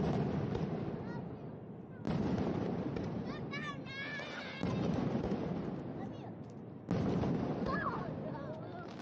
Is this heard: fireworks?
yes